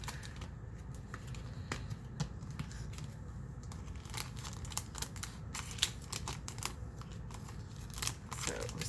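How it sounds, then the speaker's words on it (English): Plastic packaging crinkles and rustles while craft haul items such as stamps and sewing supplies are unpacked, a steady close rustle with sharp crackling bursts throughout. "So sorry about all that crinkling."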